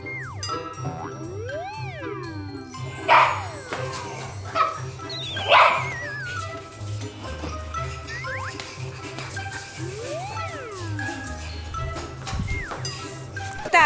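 A small dog indoors gives a few short yips and barks in separate bursts, with thin whining cries in between, over a steady, rhythmic low background.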